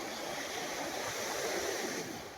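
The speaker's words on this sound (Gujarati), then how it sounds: "જો દરિયા તોફાની ચડે ને એવા મોજા." Rough, stormy sea waves at Bet Dwarka make a continuous soft roar of surf, heard from a distance as a steady wash of noise that swells slightly midway, with no talk.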